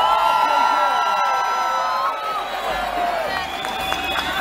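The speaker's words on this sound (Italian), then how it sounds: "Vorrei un grandissimo applauso per" A large open-air crowd in Piazza San Carlo, Turin, cheers and whoops at a year-end concert, with a sustained roar of voices, some applause, and tonal sounds from the stage over it.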